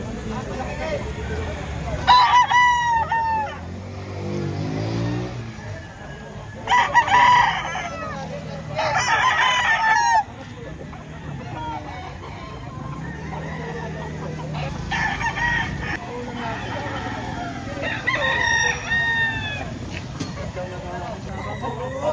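Several roosters crow loudly in bursts, one after another, amid clucking chickens and background chatter from people nearby at a chicken market in Lipa, Batangas.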